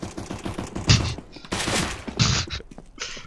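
Bursts of rapid gunfire from a first-person shooter game, loud and close, several volleys over a few seconds with short pauses between them.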